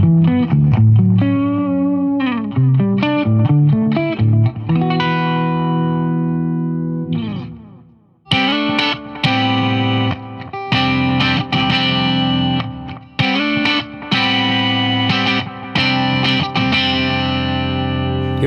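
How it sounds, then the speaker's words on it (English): An ESP Sparkle Ouija electric guitar on its neck pickup, volume rolled back slightly, plays chords and riffs with a warm, lightly distorted tone, loud and close, with a brief pause partway through. "check out this neck pickup with the volume rolled back a little bit"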